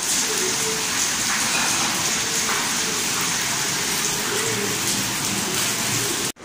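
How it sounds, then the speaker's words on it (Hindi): Heavy rain pours steadily and loudly, a dense continuous hiss of drops hitting surfaces from start to finish, with no talk. "आप देख सकते हैं कि कितनी तेज़ बारिश हो रही है"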